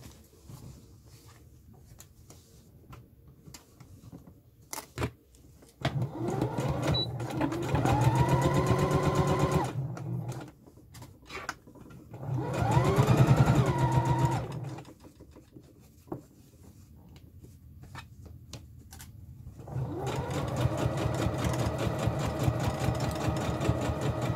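A sewing machine stitches a corset in three runs. Each run rises to a rapid mechanical whir and stops, separated by quiet pauses with faint handling clicks.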